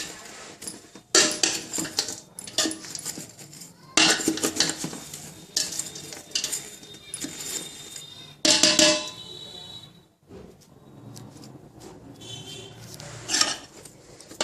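A spoon scrapes and clanks against a pan in bursts as jaggery is stirred into a sweet mango pickle mixture of mango and sugar over a low flame, with brief pauses between strokes and faint talk in the background.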